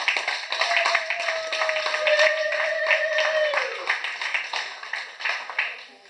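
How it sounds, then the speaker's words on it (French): An audience claps loudly and continuously for the women who took part, many hands at once, with a long sustained tone and some voices mixed in. "je voudrais que vous applaudissiez très fort pour toutes ces dames qui sont venues"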